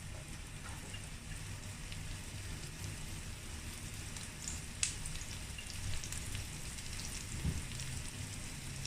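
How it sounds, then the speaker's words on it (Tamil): Mustard seeds crackling and sizzling in hot oil during tempering for a neeragara kulambu, a dense steady hiss with scattered pops, close and fairly quiet, with no talk. "இது வந்து கடுகு தாளிப்பு"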